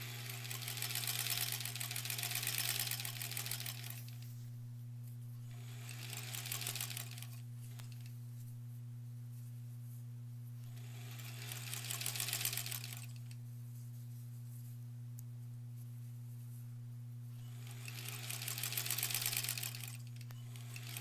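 A sewing machine stitching together quilt border pieces for a granny squares quilt, running in several loud bursts of rapid mechanical whirring with quiet pauses between them and a constant low hum underneath.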